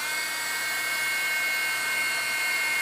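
A hair dryer blows steadily over watercolor and alcohol ink artwork, a constant close whirring hiss that holds at even loudness from start to finish with no talking.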